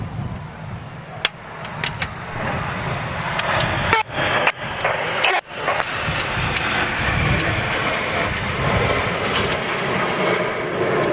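Jets of an aerobatic display team fly in formation at an air show, a loud, steady engine roar with brief dips and sharp crackles on top.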